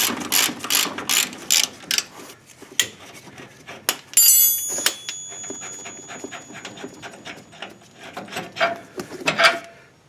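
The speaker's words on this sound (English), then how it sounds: "So now I'm just going to use a 3/8 drive, ratchet, and socket." A 3/8 drive ratchet and socket turn a ball joint bolt on a Mitsubishi Raider or Dodge Dakota, sounding in rapid close clicking bursts of the pawl, with pauses and metallic handling in between.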